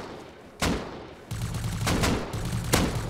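Bursts of automatic gunfire in the survival video game Rust, several separate volleys of rapid shots of moderate loudness, with short quieter gaps between them.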